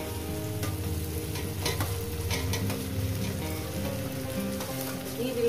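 Okra and potatoes frying in spices in a pan, a continuous dense sizzle with crackling and occasional stirring scrapes, close and steady throughout.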